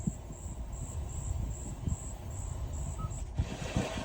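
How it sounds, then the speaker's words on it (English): A 2020 Hyundai Palisade Calligraphy Limited cabin plays its lively-forest nature track: a thin, regularly pulsing insect chirp repeats over a low rustling, rumbling bed, quiet and even throughout. "Lively forest"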